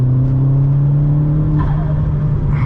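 Vauxhall Astra VXR engine under way on a night drive, a steady loud droning hum with a brief rise in pitch partway through, close and continuous with no talk.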